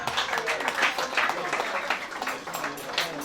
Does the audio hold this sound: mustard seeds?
no